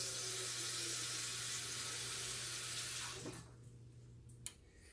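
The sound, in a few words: pouring seasoned rinse water into the goat stew pan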